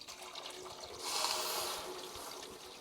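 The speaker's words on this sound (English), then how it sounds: "start putting your water on the opposite end of the Slow and Sear" Water poured into the water trough of a Slow and Sear insert on a kettle grill, a soft continuous splashing stream that swells in the middle and then eases off, fairly quiet and with no talking.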